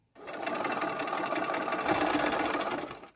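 A sewing machine runs steadily for about three seconds, stitching a quilt block seam, its motor whir and rapid needle clatter close and continuous from start to stop.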